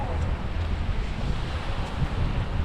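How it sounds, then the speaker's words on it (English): Surf washing onto the beach at Cheoc Van, Macau, a steady broadband roar of breaking waves mixed with wind rumbling across the microphone, continuous and fairly loud with no voices. "And now we're down by the beach."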